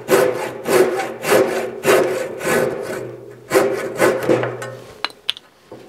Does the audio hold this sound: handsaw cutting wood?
yes